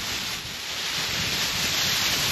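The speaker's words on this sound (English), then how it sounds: "Now it is getting a bit windy" Wind blows outdoors in a steady, close-up gust that buffets the microphone as a continuous rushing hiss, rising slightly over a couple of seconds, with no voices.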